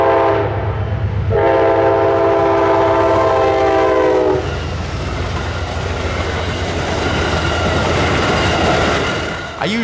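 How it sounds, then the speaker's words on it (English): Amtrak's westbound Pennsylvanian passenger train passes with a loud, sustained horn blast near the start, then the steady roar and rumble of the cars rolling by close up. "I was treated to one more train before darkness fell, Amtrak's westbound Pennsylvanian PO 43."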